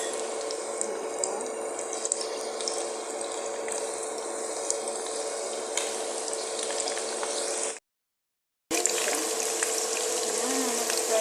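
Cauliflower pieces fry in a pan with a steady, crackling sizzle, close and even throughout, broken by one brief silent gap.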